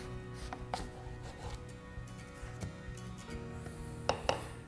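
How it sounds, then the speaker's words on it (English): A knife tip cuts through a halved onion on a board in a quick series of light taps and crisp slices over a low steady hum, with no talking. "I split the onion in half."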